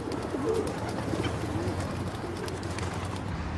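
Pigeons coo in a city square in Athens, soft repeated throaty calls rolling over a continuous busy urban background hum.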